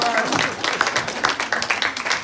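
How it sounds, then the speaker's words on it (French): A live audience at a speaking event applauds, a dense, steady patter of many hands clapping at moderate loudness for about two seconds. "On peut l'applaudir une deuxième fois."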